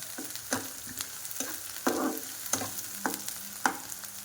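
Green chillies fry in a generous amount of oil, a close, bright sizzle punctuated by repeated spoon taps and stirring scrapes every half second or so.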